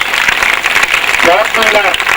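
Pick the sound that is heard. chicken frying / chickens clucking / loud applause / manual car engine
loud applause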